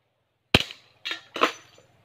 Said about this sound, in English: So let's shoot it in this distance.